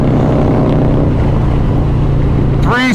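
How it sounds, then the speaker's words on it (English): A 2020 Harley-Davidson Road Glide Special 114 with stage 2 tuning and loud pipes rumbles deep and constant at close range during a freezing ride, with a voice briefly breaking in at the end. "3 stage 2 bikes, super loud with pipes"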